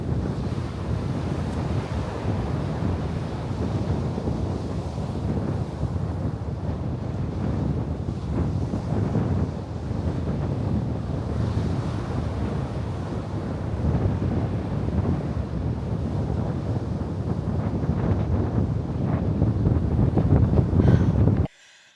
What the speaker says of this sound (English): the wind was pretty crazy